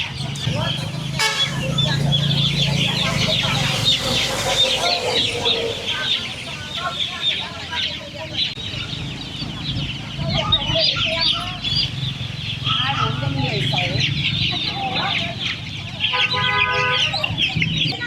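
Chickens cluck and squawk continuously at a rainy outdoor market in Vietnam, several birds close by, with a horn-like toot and low background rumble mixed in.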